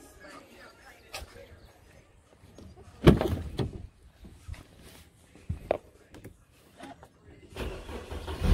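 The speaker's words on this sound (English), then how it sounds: "Now let's start the car." A Mercedes-Benz E350, just repaired with a new mass air flow sensor, cranks and fires with a sharp burst after a few quiet clicks, then idles under scattered thumps and clicks before rising noise near the end.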